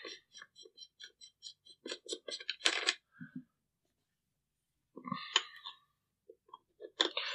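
Metal parts of a Silencer Co. Octane 9 suppressor being unscrewed from a Sig MPX-K pistol, heard up close as quick clinking, ringing metallic ticks in short bursts separated by a pause.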